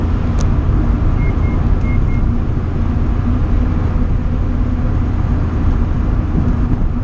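An Alfa Romeo 4C and a Ferrari driving hard on an open road, heard as a loud, steady engine and road-noise drone that never lets up, with no voices.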